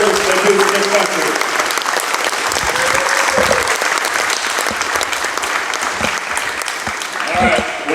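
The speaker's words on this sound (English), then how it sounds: "I'd like to have a special round of applause to these gentlemen for the service they do to this country." A baseball crowd applauds servicemen from Fort Riley with a sustained round of dense clapping that holds steady for several seconds, loud and full, with scattered voices mixed in.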